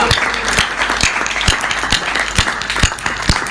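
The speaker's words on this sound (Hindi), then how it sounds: "आपने 2 पंक्ति पहले ताली बजा दी" A poetry recital audience claps in loud, continuous applause with strong, regular beats of synchronized clapping about twice a second.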